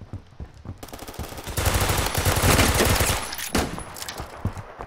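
Rapid Glock pistol fire in the Roblox shooter game, a dense burst of closely spaced loud shots building to a sustained volley and then tapering off into scattered single shots, with no talking.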